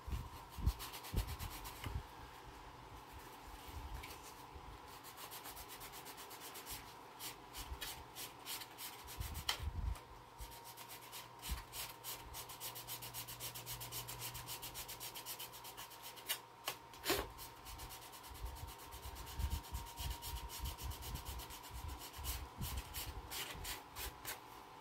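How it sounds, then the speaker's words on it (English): Small wooden parts of a lifeboat model are sanded by hand, giving a long run of quiet rhythmic rubbing strokes that come in steady bursts with brief pauses. "gonna sand these little areas here before I glue it"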